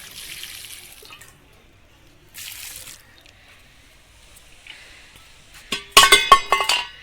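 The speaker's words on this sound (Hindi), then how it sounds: "पेड़ों में पानी भी डालना है" Water poured onto dry potted plants outdoors, splashing in short bursts with pauses between, then a louder clattering spill near the end as something falls over.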